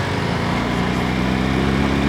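110cc underbone motorbike engine buzzing steadily under acceleration, a loud, busy high-pitched drone heard close and continuous for the whole brief moment.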